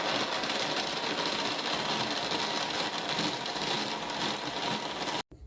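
A blender whirs continuously as it purees Indian gooseberries (amla) with water, a dense, steady motor roar that holds level for about five seconds before cutting off abruptly.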